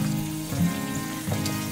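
Chicken meatballs pan-frying over low heat after being flipped, with a steady close sizzle and brief louder bursts of spitting oil.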